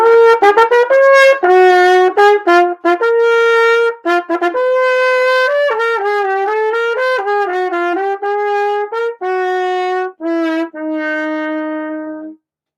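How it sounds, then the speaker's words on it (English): A solo trumpet plays the opening phrase of the Kennan Trumpet Sonata, clear and close, with sustained tones and quicker articulated notes in a lyrical line, ending on a long held note and then silence. "Today I'm going to be playing the Kennan Trumpet Sonata. I'll be playing the beginning phrase"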